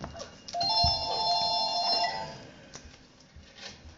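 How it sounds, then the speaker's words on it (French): A telephone bell rings in one bright, trilling burst of about a second and a half, then fades into a quiet room with a few faint knocks. "c'était le téléphone qui avait sonné"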